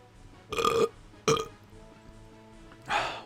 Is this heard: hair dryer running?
no